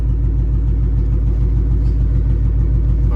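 A 2005 Chrysler 300C engine, just started after a fuel pump replacement and in limp mode, idles with a low, uneven rumble and a slightly lumpy rhythm, steady and close throughout.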